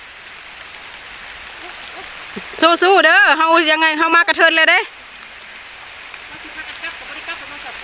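Steady rain falls outdoors during red ant egg gathering, a constant broadband patter throughout, with someone speaking loudly over it in the middle.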